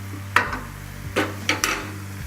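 A utensil scrapes and knocks against a pan while tomato sauce is mixed into vegan penne with cooked tomatoes, vegetables and basil, giving a few distinct clacks and scrapes over a low steady hum.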